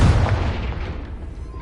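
A Confringo spell blast in Hogwarts Legacy erupts as a loud, booming burst at the start, then rumbles and fades over the next second and a half.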